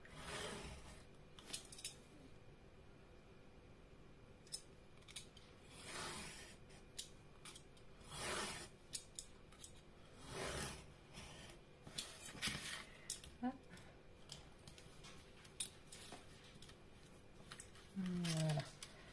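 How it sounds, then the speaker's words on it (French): Craft knife blade drawn along a pre-scored line in paper or card for a sea-themed album, giving a series of short, soft scraping cuts with brief pauses between strokes, close and fairly quiet. "la lame du cutter suit l'entaille du coup"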